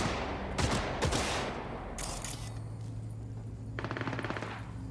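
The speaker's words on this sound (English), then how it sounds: "Who's shooting at me?" Sustained automatic gunfire in the video game Cyberpunk 2077, loud rapid bursts and sharp shots aimed at the player over a steady low game drone, with no voices.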